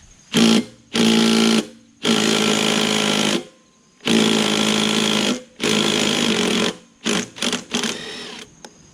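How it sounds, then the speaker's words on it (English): Nut being removed from a Toro Recycler lawn mower with a Kohler XT675 engine, likely by a power tool: loud, close bursts of buzzing and whirring in several runs of about one second each, separated by short pauses and ending in quick stutters. "let's take this nut off. I hope it comes off without me whipping out that big 1/2 inch impact"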